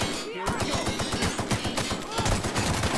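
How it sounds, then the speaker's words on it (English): Rapid bursts of energy-weapon gunfire in The Outer Worlds, a dense machine-gun-like stream of sharp shots firing nearly continuously, loud and close, with brief voice fragments mixed in. "Oh, that energy weapon was better."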